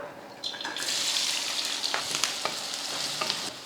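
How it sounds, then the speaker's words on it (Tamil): Steady crackling sizzle of onion, green chillies and curry leaves frying in hot oil, with sharper spitting pops and a few clinks of stirring, close by and with no voices. "எண்ணெய் காய்ச்சதுமே ஒரு வெங்காயம் ரெண்டு பச்சை மிளகாய் கொஞ்சம் கருவேப்பிலை சேர்த்துக்கலாம்"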